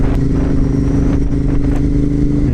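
Superbike motorcycle engine running steadily at close range, a loud continuous low rumble with a faint mechanical clatter, no speech over it.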